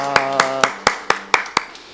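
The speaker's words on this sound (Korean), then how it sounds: "하나님께 영광의 박수 올려드리겠습니다." A church congregation claps in unison at a weekday worship service, about seven sharp, evenly spaced claps in a steady rhythm over a low sustained tone.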